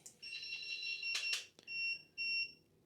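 An Aventon Level 3 commuter e-bike's lock sounds a series of shrill electronic beeps, a long tone broken by a couple of clicks and then two short repeated beeps, loud and close.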